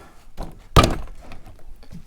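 A single sharp thump on a car door panel, struck to break it free during removal on an SSR, lands loud and close amid faint handling noise.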